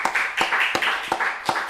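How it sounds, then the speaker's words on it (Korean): A church congregation claps loudly in unison during a Sunday service, with sharp synchronized claps coming at a steady rhythm about every third of a second. "우리 영광의 박수를 하나님 앞에 한번 올려 드리도록 하겠습니다."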